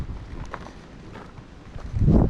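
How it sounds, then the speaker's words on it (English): Wind buffets the microphone with low rumbling gusts at Letchworth State Park above the Genesee River gorge, swelling into a louder blast at the end. "it is very windy, as you can tell."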